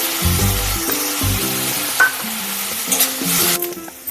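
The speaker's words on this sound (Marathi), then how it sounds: "बारीक चिरलेला कांदा घालून तोही गोल्डन होईपर्यंत परतून घेऊया." Finely chopped onion fries in oil until golden for a garlicky fenugreek dish, a bright continuous sizzle with occasional utensil clinks, playing under background music.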